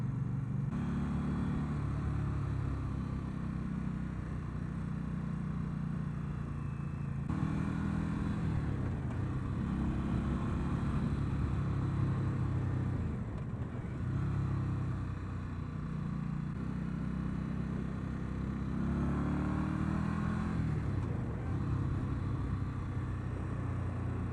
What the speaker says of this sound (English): Second gear, you really want to get the revs up on this bike